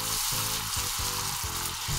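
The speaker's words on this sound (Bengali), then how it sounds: "এবার আমি মশলাগুলোকে কিন্তু একটু কষিয়ে" Spices with a spoon of cumin powder fry in oil for a Bangladeshi duck malai curry, crackling in a constant sizzle while a utensil scrapes the pan in a repeated stirring rhythm, close and alone.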